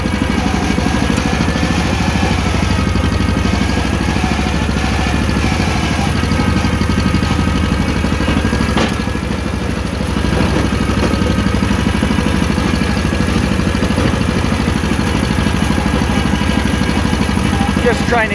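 A John Deere 40 tractor's engine idles steadily and loudly up close while grading a driveway, a constant low chugging throb with faint clatter running unbroken throughout, and someone talks briefly over it.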